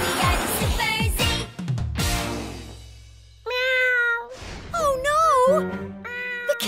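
Cartoon kitten meowing: several high, wavering, drawn-out meows with bright sliding pitch, loud and close, mixed with animated music and sound effects.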